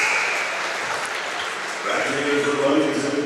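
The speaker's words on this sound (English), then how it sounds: "Cam getting a big round of applause from the Ludington faithful here tonight at Newaygo High School" A high school basketball crowd in a gym applauding, a sustained wash of clapping and cheers from many spectators that swells slightly toward the end, with a voice talking over it.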